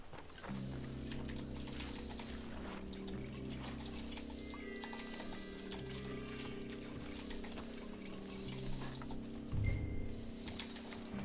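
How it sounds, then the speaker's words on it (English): Liquid glugs and splashes as it is poured out to douse something in Red Dead Redemption 2, a steady close pouring flow over a low droning background, with a brief thump near the end. "I'm gonna douse this too."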